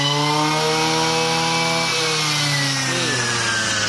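A used Japanese Robin NB223 brush cutter's small two-stroke engine screams at full throttle, a loud, steady, high-pitched whine held for about four seconds with a slight dip in pitch near the end.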